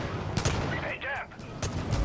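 Gunfire in the video game Far Cry 5, a few sharp shots in quick succession set against ongoing game ambience, fairly loud and close.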